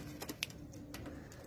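Pigeons of the Kalsera and Lalsera breeds coo faintly in short soft calls against a quiet background, with a few light clicks and no talking.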